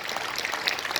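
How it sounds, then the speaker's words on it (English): A crowd at a cruise line ceremony for a new ship in Piraeus applauds in a brief, even burst of clapping that lasts about a second. "I ask you a very big round of applause for the staff on board"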